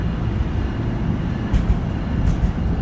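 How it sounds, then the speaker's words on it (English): A very long train arriving at Dover station gives off a steady, loud rolling rumble with low thumps and occasional faint squeals, heard close and continuous with no voices. "got to the Dover station just in time to catch a very long train"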